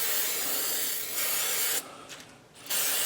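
Fluid Film rust protection sprays from an aerosol can onto the front hub of a 2007 Chevy TrailBlazer, a close, steady hiss with a brief pause and a short gap before spraying resumes.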